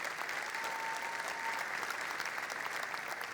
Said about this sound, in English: Give yourselves a real round of applause.